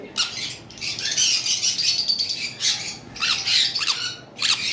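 Pet birds in an indoor bird room give repeated harsh, high squawks and chirps in bursts, close and fairly loud, with no talking.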